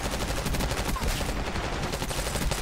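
Rapid SMG fire in the Black Ops 6 multiplayer shooter, a dense continuous stream of loud gunshots with no pauses across the whole stretch.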